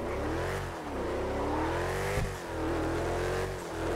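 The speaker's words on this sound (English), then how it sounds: "You hear that turbo?" A turbocharged Ford F-150 engine in the game FiveM revs hard and steadily, with its pitch climbing and dipping in several surges, loud and close, with no talking.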